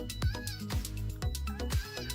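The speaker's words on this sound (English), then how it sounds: "Meow." A cat in the NIKKE video game meows repeatedly, about four short, evenly spaced mews that are close and clear with little else around them.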